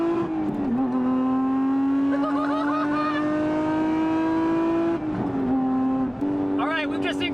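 Lotus Emira V6 fitted with a Valvetronic Designs titanium exhaust accelerating hard, the note rising steadily through the gears, starting subdued in quiet mode and then opening into a louder, rasping tone with sharp gear-change dips, close and alone.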